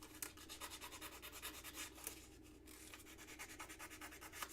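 Sandpaper rubbed back and forth to remove burrs from the cut end of a metal tube, making a steady series of quick, close, scratchy strokes in an even rhythm, heard alone.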